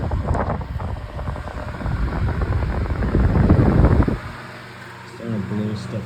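A 16-inch Signal oscillating fan runs at high speed with a loud, close, breathy whoosh that swells and then drops off sharply near the end, followed by a person talking briefly.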